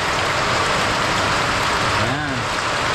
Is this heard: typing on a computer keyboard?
no